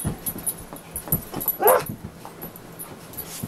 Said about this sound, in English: Ah, happy puppy.